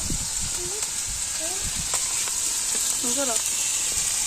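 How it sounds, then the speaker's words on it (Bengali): Ginger and garlic paste with spices frying in a pan for a village-style chicken curry, giving a steady close sizzle throughout, with faint voices and a few brief tonal sounds in the background. "মশলা ভাজি আদা বাটা রসুন বাটা"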